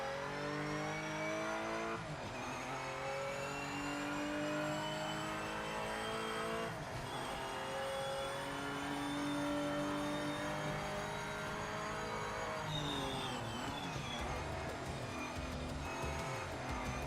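A Porsche engine in a racing video game revs hard and continuously, the pitch climbing through gear changes with brief drops between shifts, loud and close with faint tire noise and no talk.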